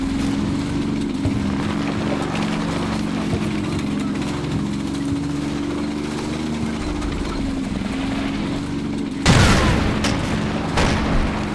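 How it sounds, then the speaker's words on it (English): Tank destroyer struck by a shell in Combat Mission Normandy, a sudden loud blast after a long stretch of low rumbling engine and battle drone, followed by a fainter second thump. "The tank destroyer is spotted and hit."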